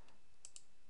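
Two quick, light computer mouse clicks close together, faint and close by, made while working in the Talend Pipeline Designer software, with no talking.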